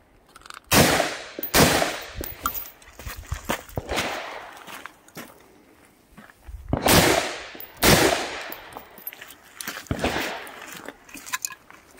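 AR-15 rifle fire at a practice range: sharp, loud cracking shots in irregular bursts and singles across the clip, each with a short echoing tail, alone without speech.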